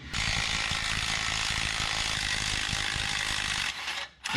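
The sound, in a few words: impact wrench removing dirty nuts on 1963 IH Loadstar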